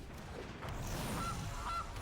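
A brief honk for the Gilded Goose card in the digital card game MTG Arena sounds amid a dense, noisy game mix, with two short tonal blips riding over the steady background.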